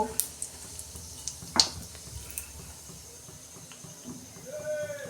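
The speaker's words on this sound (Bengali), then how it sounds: "তেল গরম হয়ে গেছে, গোটা জিরে দিচ্ছি অল্প" Whole cumin seeds sizzle in hot oil, a faint, steady hiss with a few small crackling pops near the start.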